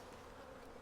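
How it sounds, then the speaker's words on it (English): Honey bees from an old abandoned hive, opened for its first inspection in years, pour out the bottom in a dense, steady buzzing swarm, close and continuous. "Bees right here, bees coming out the bottom."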